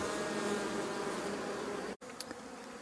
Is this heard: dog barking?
no